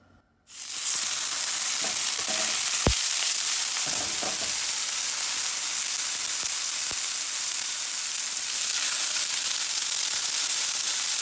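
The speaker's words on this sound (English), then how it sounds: "I'm just gonna pop it in the frying pan." Continuous loud sizzling of fish frying in avocado oil in a pan, with a few sharp pops and clinks early on.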